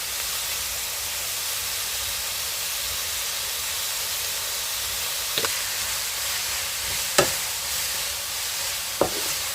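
Onions cooking in a pan for a chicken curry, with steady frying sizzle and hiss throughout and a few sharp clinks of a spoon stirring near the end.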